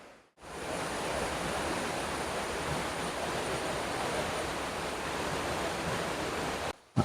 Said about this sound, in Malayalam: വലിയ ഉയരത്തിൽ നിന്ന് ചാടുന്ന മാരിക്കുത്ത് വെള്ളച്ചാട്ടം